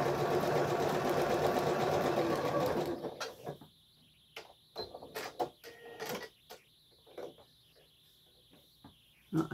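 A home sewing machine runs steadily stitching decorative stitches on a table topper, a loud continuous whirring hum for about three seconds, then stopping into quiet with scattered small clicks and handling noises.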